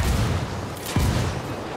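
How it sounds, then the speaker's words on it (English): Mortar fire in the video game Ghost Recon Wildlands, a short burst of distant booming impacts followed by a sharper blast near the middle, rumbling under steady noise. "Damn, these guys got mortars."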